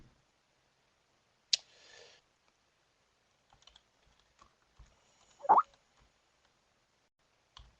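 Sparse typing on a computer keyboard while setting up trading chart trendlines, a few quiet scattered clicks and one louder burst of keystrokes in a silent room.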